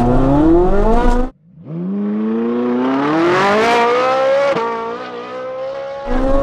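A 580 bhp rear-wheel-drive Ferrari 458 supercar launches hard from standstill, its engine note loud and close as it revs and climbs steeply through the gear, with a manual shift and a brief drop and then a fresh surge near the end.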